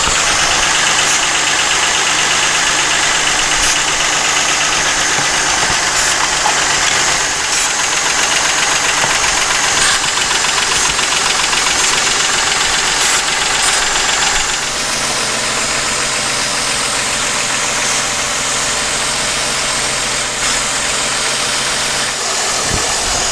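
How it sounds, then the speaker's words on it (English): Jeep Commander engine idles steadily and loudly up close during a PCV vacuum leak check, with a constant mechanical drone and a slight drop in pitch and level partway through; no talking. "you should notice the RPM of the engine increase"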